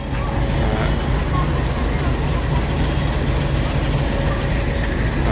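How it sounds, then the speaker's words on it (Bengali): Broad gauge local train pulling away from a station platform, a loud continuous rolling rumble with faint clatter filling the whole stretch, voices mixed in beneath. "আমরা যে ট্রেনটাতে আসছিলাম এটা হচ্ছে বটগেজ ট্রেনটা, এখনই ছেড়ে দিয়েছে।"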